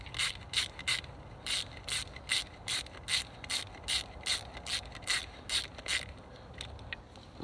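A hand ratchet clicks steadily while loosening the single coil pack bolt on a Mercedes E320 engine, close up, with rapid even bursts of clicking in a regular back-and-forth rhythm.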